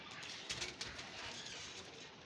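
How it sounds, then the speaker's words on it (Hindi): Domestic pigeons kept on a rooftop coo softly and faintly in a few low, rolling calls over a quiet hiss of background air. "ऊपर से कबूतर दिखाया करो।"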